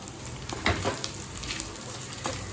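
Cooked rice being mixed with curry leaf powder and a little salt, giving a soft, steady scraping and stirring texture with a few louder scoops, close by and without talk.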